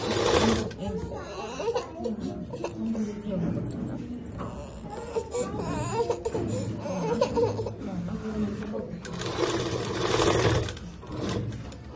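A sewing machine stitches a school skirt in bursts of mechanical whirring and clatter, heard under ongoing talk and some laughter.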